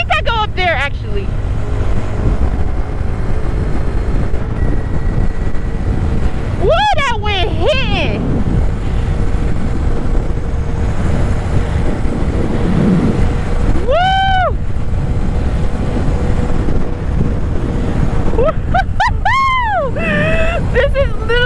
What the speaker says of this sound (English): This is literally like that wind blowing.